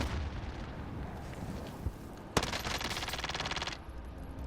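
In Call of Duty Warzone, a C4 charge goes off with a sudden loud blast, followed at once by a rapid rattle of gunfire for over a second, all over constant battlefield noise.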